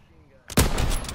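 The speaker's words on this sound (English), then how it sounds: "Machine gun." Gunfire in Call of Duty WWII: after a quiet moment, a sudden loud burst of machine gun fire erupts at close range and keeps rattling to the end.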